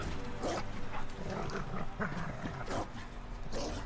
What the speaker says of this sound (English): Stop growling like that, dang!